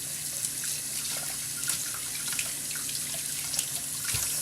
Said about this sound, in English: Give it a rinse really quick.